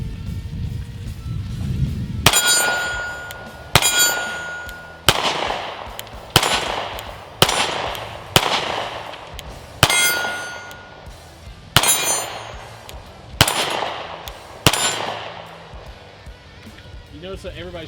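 A Sig P365 SAS pistol fires about eleven sharp, loud shots at uneven intervals, each crack ringing out briefly before the next.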